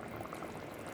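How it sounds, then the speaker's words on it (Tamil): Prawn curry gravy bubbles in a pot, a steady dense simmering burble close by and faint, with no talk over it. "இதோ உங்கள் குழம்பு நல்லா கொதிக்குது."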